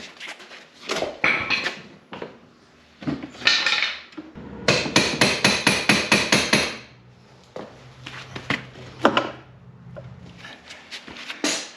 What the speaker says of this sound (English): I'm gonna have to tap it forward a whisker